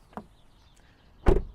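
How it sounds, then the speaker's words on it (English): Front door of a 2024 Lynk & Co 01 PHEV being shut: a faint light click, then after a pause one loud, solid, close thud, heard alone. "front door is a bit heavier and sounds better when you close it"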